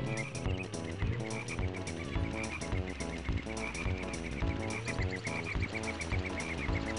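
Frogs croak in the video game Diddy Kong Racing, a loud, steady rhythmic chorus of repeated synthetic croaks pulsing in regular beats over a looping game tune, with no talking.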